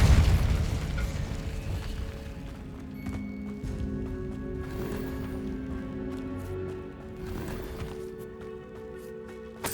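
Booming spell explosions from the PC game Hogwarts Legacy go off in quick succession over a dense, continuous bed of game sound, with sharp bursts at the start and near the end.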